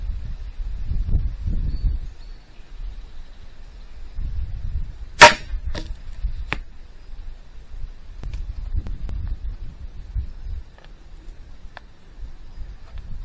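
A CCI standard velocity .22 round is fired into play sand outdoors, a single sharp crack followed by a couple of quick echoes, amid gusty wind noise on the microphone.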